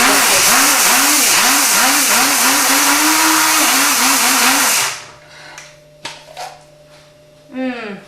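A kitchen blender roughly grinds soup ingredients, a loud whirring motor pulsing rhythmically for about five seconds before cutting out, followed by faint clatter and a brief voice.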